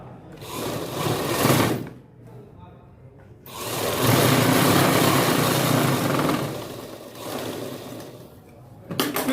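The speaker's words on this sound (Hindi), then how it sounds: "आधा इंच का दबाव लेते हुए इसमें सीधी सिलाई लगा देंगे" An electric sewing machine runs in steady bursts, sewing a straight seam half an inch in on a pleated khajuri salwar, with a pause near the two-second mark before the motor hum resumes loud and close.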